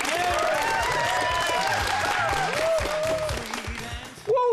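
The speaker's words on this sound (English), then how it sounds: "Well, I'm clapping." Studio audience applause on a television entertainment show, with dense clapping under a loud melodic musical sting with sweeping tones, ending abruptly as a voice comes in.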